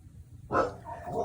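An indoor dog lets out two short muffled barks in quick succession over a quiet low room hum.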